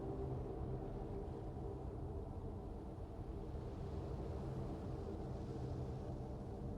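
Low, steady rumble of a distant thunderstorm in the flying game The Falconeer, a continuous deep roar that holds at an even level throughout with no talk over it.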